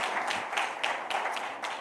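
Congregation clapping during a church celebration service, a steady patter of many hands at close range, uneven and continuous with no one speaking.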